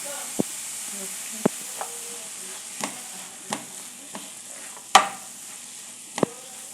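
Mushrooms fry in a pan with a low continuous sizzle, punctuated by roughly eight sharp spoon clicks and scrapes spaced irregularly, one louder knock midway, all close by with no speech.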